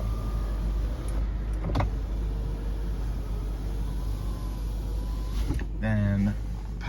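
Power windows on a Bentley Arnage whir briefly one after another over a low, steady idling hum, with short motor bursts near the start and a longer one near the end.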